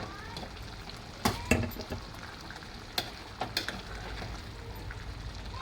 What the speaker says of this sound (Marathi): थोडंसं ढवळून घेऊया